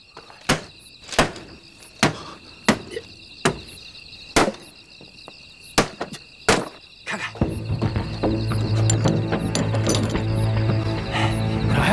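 Sharp impact strikes hammering at a stuck wooden crate in a tense wartime scene, about ten loud separate blows at an uneven pace, after which a sustained low rumbling and clatter takes over.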